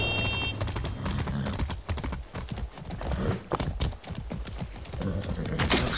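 Rhythmic clip-clop of horse hooves trotting along in Far Cry 6, steady and close, with a brief whinny and some clicking underneath.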